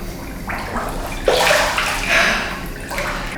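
Water sloshing and trickling in a bath, a few close splashing bursts that swell and fade one after another.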